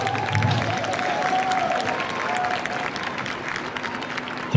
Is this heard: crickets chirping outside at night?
no